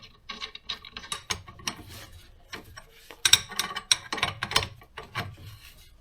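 Nut and washer being threaded and tightened onto a suspension bolt of an Alfa Romeo 156, a run of close, quick metallic clicks and ratcheting taps with brief pauses, no talking.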